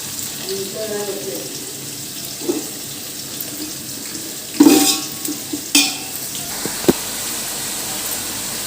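Chicken being stirred in a pan for a gongura chicken dish, with soft frying sizzle, a few clattering scrapes of the spoon, running water from a tap and occasional voices.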